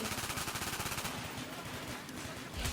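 Submachine gun fires rapid automatic bursts in Call of Duty Black Ops, a fast rattling stream of shots that stutters and trails off, fairly quiet.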